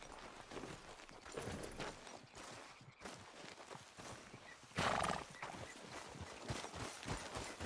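A horse in Red Dead Redemption 2 walks with steady clip-clop hooves over a dense ambient outdoor backdrop, letting out a loud neigh midway, close and clear.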